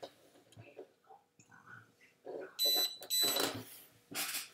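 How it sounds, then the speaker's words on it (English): An electronic speed controller on a Dromida Kodo RC car beeps twice while binding to its transmitter, two loud, close tonal chirps standing out from quiet background handling noise. "Heard it beep twice."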